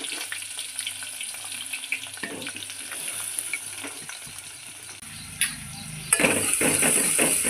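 Chopped onions and green chilies frying in hot oil, a bright continuous sizzle that swells louder near the end as the pan is stirred, with occasional scraping and knocks.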